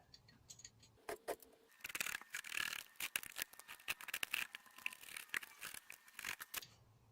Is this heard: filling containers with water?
no